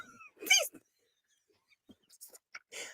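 Dogs bark in short scattered bursts indoors, a loud cluster early then several brief sharper yips, with quiet gaps between.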